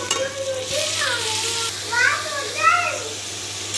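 Chicken pieces fry in a pan with a continuous sizzle, while someone talks over it throughout.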